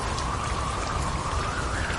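Steady rain falls throughout as a background effect in a Bengali horror-romance audio drama, a dense, even patter with no voices or thunder.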